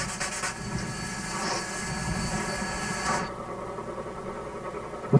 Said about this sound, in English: coming to a stop, the engine is serviced and the tender is filled with water